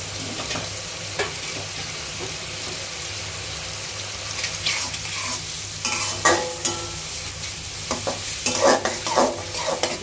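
Seafood fried rice being stirred and fried in a pan, with a spatula scraping and tossing against the metal over a steady sizzle, the clatter growing busier toward the end.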